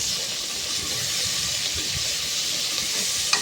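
Tomato rice ingredients sautéing in hot oil with salt, a steady close sizzle and hiss running evenly throughout with a faint clink near the end.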